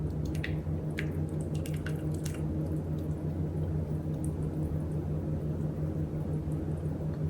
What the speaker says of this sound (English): Now we're going to pour it in right on top of that broccoli.